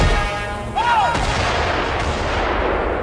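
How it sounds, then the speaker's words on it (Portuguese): Artillery live-fire exercise at the Vendas Novas firing range in Portugal, with a sharp distant report that rolls into a long, fading rumble over steady background noise. "realizaram exercícios de fogos reais no polígono de tiro de Vendas Novas"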